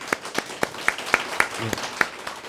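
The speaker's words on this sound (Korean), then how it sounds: "하나님께 다시 한번 영광의 박수를 한번 먼저 올려드리겠습니다." Sparse, scattered clapping from a church congregation during a Sunday service, a handful of distinct sharp claps in an irregular rhythm rather than a full ovation.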